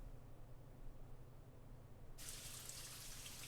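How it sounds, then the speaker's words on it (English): In the horror video game Spirit Hunter: NG, a faucet that would not run suddenly gushes water. A steady, hissing stream starts abruptly partway through, following a quiet low hum. "Water begins gushing from the faucet that refused to release water no matter what I did."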